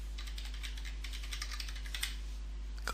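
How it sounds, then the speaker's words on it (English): Quick, light keystrokes tap out a password on a computer keyboard, a steady patter of clicks close by, faint over a low background hum. "Then I'll type in a password,"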